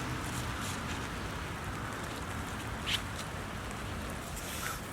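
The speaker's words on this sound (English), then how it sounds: "It's raining, but we're gonna try to see." Rain falling outdoors, a soft, steady hiss of drops pattering on surfaces, fairly faint and even throughout with a couple of small brief ticks.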